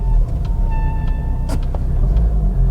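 Brakes with poorly conditioned discs squeaking on a Volvo XC70 while driving, a thin, high squeal coming and going over a loud, steady road and engine rumble from inside the car.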